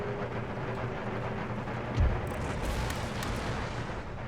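Cannons firing in an Empire: Total War battle, Ottoman forces against Russia, a low rumbling barrage with one heavier boom in the middle under continuous battlefield din.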